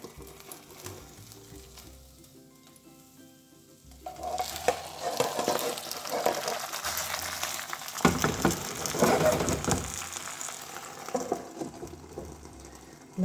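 A cheesy Italian-style potato frittata cooks in a frying pan: a soft, quiet sizzle at first, then from about four seconds louder frying hiss with scraping, clattering pan and utensil sounds close by.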